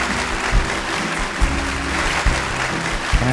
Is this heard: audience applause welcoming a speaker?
yes